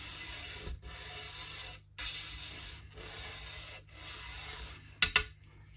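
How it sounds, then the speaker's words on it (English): Scraping and rubbing on a counterfeit Chibson LP-copy guitar during a setup, heard as four even rasping strokes separated by short pauses, quiet and close, ending with a couple of sharp clicks and no speech. "You can see the line we scraped."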